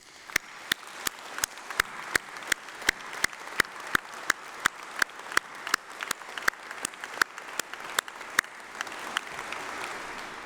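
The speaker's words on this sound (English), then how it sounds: "Please join me in giving them a massive round of applause" A graduation ceremony audience claps together in a big hall, the crowd's patter punctuated by loud, evenly spaced rhythmic claps that keep a steady beat for about ten seconds.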